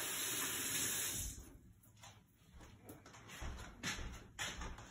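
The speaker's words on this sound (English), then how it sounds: "you give him a good rinse" Running tap water in a kitchen sink during a cooking class, a steady splashing hiss that gets broken up and muffled for a few seconds as something is rinsed beneath the stream, then flows on.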